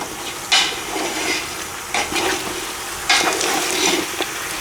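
Lamb stew in tomato sauce is stirred over high heat, giving a steady wet sizzle broken by periodic scraping swishes as the spoon moves through the pot.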